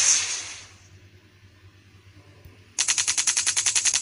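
Jet fighter machine gun in the Sky Fight video game: a fading hiss gives way to a rapid, steady burst of loud repeated shots near the end, with no talk.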